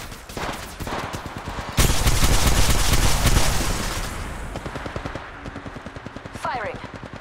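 Rapid automatic gunfire rattles in the Apex Legends video game, with a quieter stretch of fire that swells into a loud, dense sustained burst. Game voice and sound effects blend in near the end.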